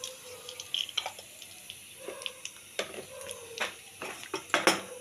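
Whole cumin and whole garam masala hit hot oil in a pan where prawns were just fried, giving scattered crackles and sharp pops over a faint sizzle, with a few spoon-on-pan clinks.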